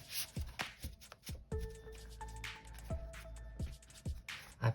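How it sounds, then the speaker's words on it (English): A tarot deck is shuffled by hand in a quiet room, with soft riffling and brisk card slaps arriving in short bursts and a faint sustained tone underneath. "I've done quite a bit of shuffling already, just doing a couple more here"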